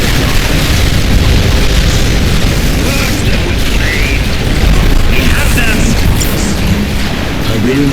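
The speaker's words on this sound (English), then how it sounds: "Tiberium explosion detected." Tiberium explosion in the video game Command & Conquer 3: Kane's Wrath, heard as loud, continuous booming blasts and crashing bursts inside dense battle noise, with no clear break from start to end.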